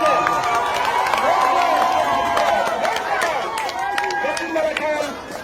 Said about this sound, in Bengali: সকলে হাততালি দেন